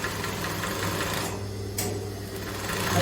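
A sewing machine stitching a straight seam for a gathered skirt runs steadily and close for about three seconds, a continuous mechanical whir with a brief pause in the middle.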